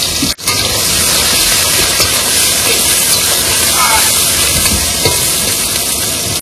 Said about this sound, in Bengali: তেল গরম হয়ে গেছে, এবার দিয়ে দেবো পেঁয়াজ কুচি, রসুন,